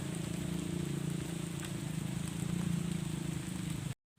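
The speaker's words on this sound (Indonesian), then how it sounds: "hujan-hujanan." Rain pours steadily during an oil palm harvest, a dense, even hiss of drops on surfaces that holds at a constant level for about four seconds and then cuts off.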